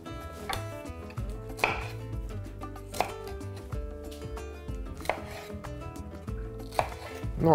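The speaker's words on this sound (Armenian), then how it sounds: "կտրատում ենք արքայ խնձորի կտորների չափ։" A knife chops food into pieces on a cutting board with a steady run of crisp, close strikes, roughly two per second and each slightly uneven. No one talks.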